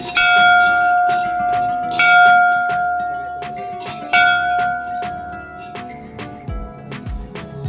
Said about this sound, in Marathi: इथं घंटी वाजवावं लागते.